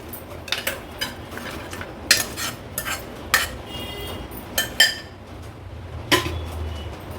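Paya soup is ladled from a pot into a bowl with a series of light metallic clinks and scrapes of ladle against vessel, irregular and close, with no speech.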